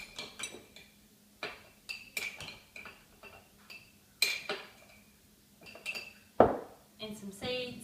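Oatmeal and coconut tipped into a glass jar in a home kitchen, giving a series of light clinks, taps and soft pattering spills, close and fairly quiet, with a sharper knock near the end.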